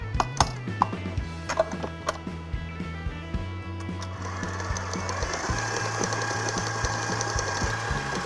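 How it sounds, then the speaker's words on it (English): A stand mixer with a paddle attachment beats meringue and butter into buttercream for a black and white birthday cake, giving a steady rhythmic mechanical thumping and whirring that grows denser and busier partway through. "So back to the mixer, this time with the paddle."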